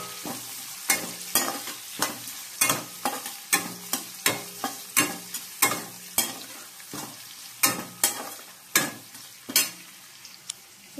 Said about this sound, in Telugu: హోల్ గరం మసాలా, వేగాక ఆనియన్స్ వేసుకోవాలి.